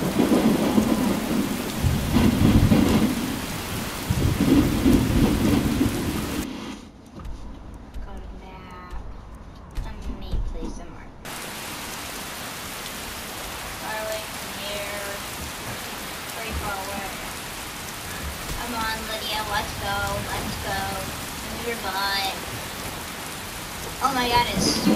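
A thunderstorm in the video game Skyrim, with thunder rumbling under steady rain hitting surfaces, loud in the opening seconds and then settling into a continuous downpour.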